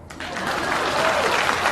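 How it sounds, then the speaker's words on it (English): A short burst of applause from a crowd rises quickly and holds steady at moderate loudness for under two seconds, with no talking. "Please clap."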